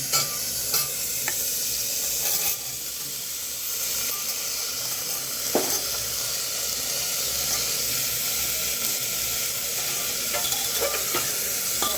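Papaya and potato pieces tossed into a sizzling pan for chicken stew, a steady hiss and crackle of frying with occasional soft stirring scrapes and clinks.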